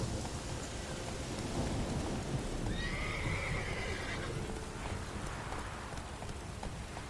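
A horse whinnies loudly while its hooves clip-clop along in the video game The Witcher 3, with a rainy, stormy ambience underneath and no talking.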